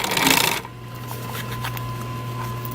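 A sewing machine top stitching the seam of a fabric headrest, starting with a short burst of loud rasping and rustling, then settling into a low steady motor hum with faint ticks.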